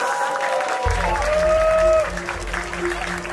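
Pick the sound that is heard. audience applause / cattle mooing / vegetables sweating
audience applause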